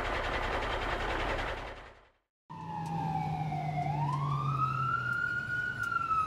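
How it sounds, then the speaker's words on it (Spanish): After a brief noisy stretch and a moment of silence, a fire truck siren wails, its pitch dipping then rising, loud and steady. "Camión de bomberos."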